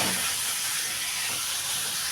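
Fried pointed gourd (potol) hits a pan of cooked masala and oil, giving a loud continuous close sizzle and hiss that holds steady throughout, with no talking.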